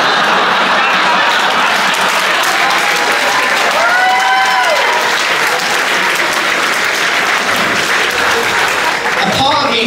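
Loud, dense audience applause fills a comedy venue continuously, with a brief whoop or cheer rising from the crowd midway and a roar of many hands throughout.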